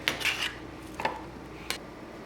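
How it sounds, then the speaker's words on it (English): Peaches are sliced and dropped into a measuring cup in a home kitchen, with a few faint clinks and scrapes of knife and cup and soft rustling between them. "I'm slicing them like this and putting them in my measuring cup"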